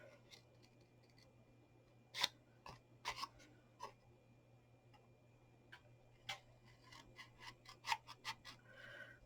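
Quiet, scattered snips and clicks of scissors cutting cardboard, irregular and close, with a faint steady hum underneath and no voices.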